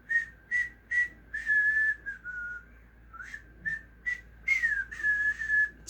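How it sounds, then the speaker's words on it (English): A person whistles a breathy, halting tune in short phrases, some notes held longer, close and alone. "I spent so much time in my life learning how to whistle."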